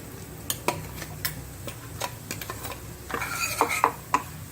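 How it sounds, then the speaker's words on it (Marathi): Masala being stirred and sautéed in oil in a pan for an Indian brinjal curry, with scattered scraping clicks of the spoon against the pan and a soft sizzle, louder scrapes near the end. "परतून घेऊया चांगलं"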